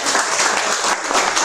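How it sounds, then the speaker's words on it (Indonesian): An audience at an Indonesian medical lecture on malaria in pregnancy breaks into dense, steady applause, a brief burst of many hands clapping at once. "Tepuk tangan dulu ya."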